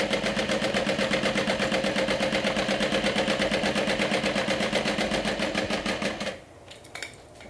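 Sewing machine stitching thread on a bag panel, a steady loud rapid mechanical chatter that runs continuously, then stops abruptly, leaving a few faint handling clicks.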